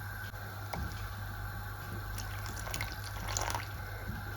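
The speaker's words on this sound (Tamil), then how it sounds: "இந்த கறிக்கு தேவையான கொஞ்சமாக பால் விடுவோம்" Faint trickling splashes as milk is poured into a simmering curry, in a few brief bursts over a steady low kitchen hum.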